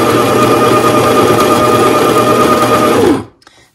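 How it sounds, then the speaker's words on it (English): An electric coffee grinder runs at a steady, loud whir as it grinds coffee beans, then cuts off sharply near the end and leaves a short quiet tail. "let's grind some beans real quick and make some coffee"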